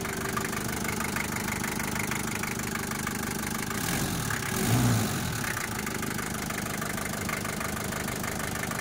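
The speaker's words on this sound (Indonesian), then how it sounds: "mesinnya halus." A Daihatsu Taft Hiline Long Family Wagon 4x4 engine idles steadily and evenly, a continuous mid-low mechanical hum at moderate level with a brief swell midway and no voices.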